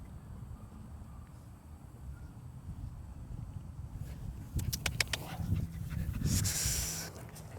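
A pit bull terrier pants quietly and rhythmically at close range over a low background, with a few louder breaths and rustling near the end.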